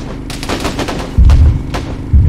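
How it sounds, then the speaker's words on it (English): Rifle fire in a military shooter video game: a quick burst of sharp shots followed by two heavy, loud booming reports, close and unaccompanied by talk. "Taking rifle shots."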